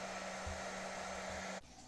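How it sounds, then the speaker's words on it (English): A hair dryer blows steadily up close, heating a bowl to lift a water stain, a continuous whirring hiss that cuts off near the end. "and finally heating with the hairdryer"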